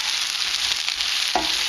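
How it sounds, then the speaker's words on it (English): Mushrooms and a spice blend stirred through hot oil in a pan for a chicken madras, with a steady close sizzle and a brief scrape of the spoon near the end. "You should add the blend all together and give it a good stir"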